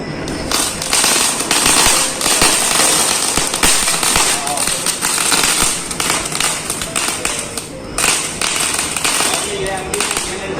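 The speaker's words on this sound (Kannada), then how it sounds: "ಆಲ್ಮೋಸ್ಟ್ ಶಬ್ದ ಮಾಡೋ ಪಟಾಕಿಗಳನ್ನೆಲ್ಲ ನನ್ನ ಮಗನೇ ಹೊಡೆದ" Diwali firecrackers burst in quick, dense crackling volleys and sharp pops throughout, loud and close, with voices faintly underneath.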